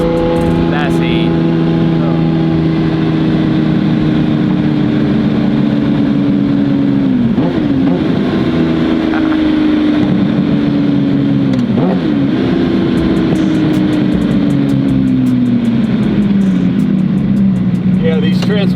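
Straight-piped Ferrari F50 hypercar with a detuned Formula One engine, droning loud and close while driving, its steady exhaust note easing and dipping with gear changes and throttle lifts.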